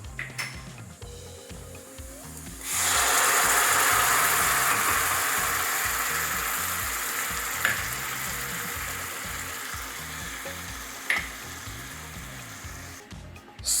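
Tomato sauce with ginger, salt and pepper sizzles loudly in a pan as it is stirred, starting suddenly after a quieter moment of scraping and clinks, with a steady frying hiss and occasional utensil taps against the pot.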